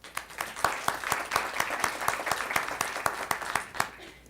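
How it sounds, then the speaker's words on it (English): An audience at a panel discussion on Latino identity breaks into applause, a steady patter of many hands with a few sharper claps standing out, sustained for several seconds before tapering at the end. "So let's give him an applause."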